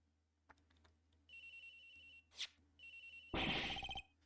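A phone ringing in the video game Ace Attorney Investigations, with bursts of an electronic ring tone separated by short pauses and a louder final burst, all quiet and without speech.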